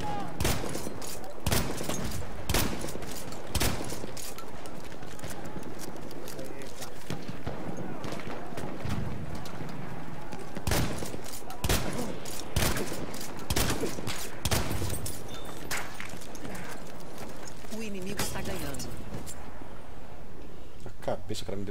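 Bursts of rifle and machine-gun fire crackle throughout a Battlefield 1 match, sharp repeated shots of varying distance with a few near, loud cracks, while a player talks over the battle.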